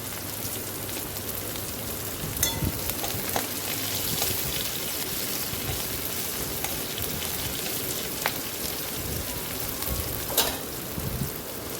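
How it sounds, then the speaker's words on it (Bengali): Katla fish head frying in hot oil in a pan for a Bengali kaliya, giving a steady crackling sizzle with occasional sharper pops, close and moderately loud with no talking. "এটা ভাজা হচ্ছে।"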